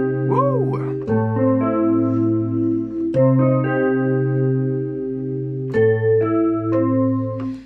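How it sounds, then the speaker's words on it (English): A Yamaha PSS-390 keyboard in dual mode plays layered electric piano tones with a shimmering chorus wash, a sequence of sustained chords and single notes played with a slight wobble and echoing tail. "Kind of piano sound, because it's in dual, it sounds a bit chorused."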